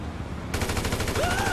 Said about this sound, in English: Oh shit, shots?